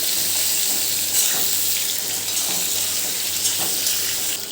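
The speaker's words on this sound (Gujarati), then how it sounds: "જીરું આપણું તતડી ગયું છે તો એની અંદર આપણે હવે આ રવૈયા એડ કરી દઈશું ને એક વખત એને આપણે હલાવી લેવાનું" Stuffed vegetables dropped into hot oil with crackling cumin seeds and stirred, giving a continuous close sizzle and hiss with small bumps and scrapes from stirring, and no talking.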